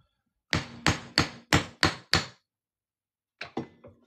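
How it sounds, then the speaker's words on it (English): A hammer strikes a 90% silver Texas quarter being made into a coin ring, six sharp evenly spaced metallic blows, a pause, then three lighter taps, close and clear with no talking. "I'm just going to hammer this on through."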